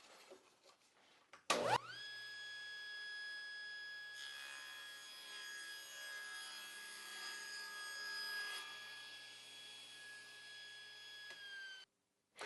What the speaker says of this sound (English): now you can cut thin strips without worrying that they're going to fall down into the saw